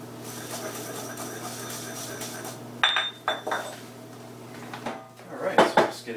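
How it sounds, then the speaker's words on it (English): Coffee being ground to a fine powder for Turkish coffee, with a steady low hum followed by a few sharp clinks and metallic knocks of utensils and a container near the end. "this is the final grinding session, and basically this time around we're just grinding this down to a last bit here to a powder"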